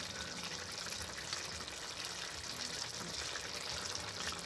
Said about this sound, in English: So I'm just pouring the sauce over it.